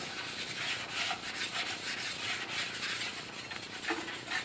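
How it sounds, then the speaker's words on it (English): A sharpening stone is rubbed in a circular motion in a workshop. It makes a continuous, close, gritty rasp that swells and fades slightly with each stroke, with no speech. "When you're using these stones, you generally want to use a circular motion"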